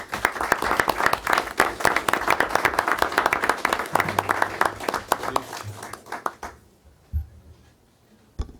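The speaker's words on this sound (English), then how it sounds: "Let's all give them an applause." Audience at a school board of education meeting gives a steady round of hand clapping, dense and fairly loud for about six seconds before thinning to a few scattered claps and fading out.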